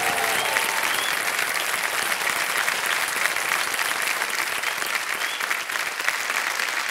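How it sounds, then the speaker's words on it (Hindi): Loud, dense studio audience applause on a TV quiz show set, steady and sustained throughout as a contestant takes the hot seat, with no talking over it. "जोरदार तालियां बज जाए अर्शदीप सिंह के लिए"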